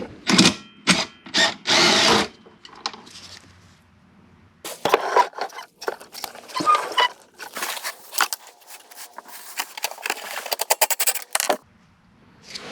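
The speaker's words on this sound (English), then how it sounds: "I've got a 10mm box end and a 10mm socket on my little impact gun" A small impact gun fitted with a 10mm socket loosens skid plate bolts on a 2021 Can-Am Outlander 850 XT, giving loud, close, rattling bursts separated by pauses, with quieter clinks and handling noises between them.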